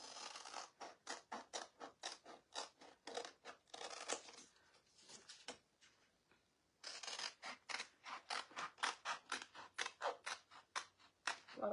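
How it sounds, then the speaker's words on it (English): Scissors snip apart paper craft transfer pieces in quick, rhythmic cuts, close and crisp, with a short pause in the middle before the steady snipping resumes. "We're going to cut these all apart."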